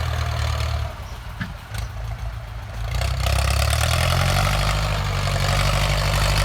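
A Ford 6610 tractor engine runs steadily close by while pushing soil on a garden plot, a loud continuous diesel rumble that dips briefly and then swells a little louder, with no talk.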